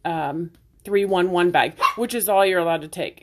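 A new puppy yips and barks in the background, its high, whiny calls blending with someone talking steadily in the foreground.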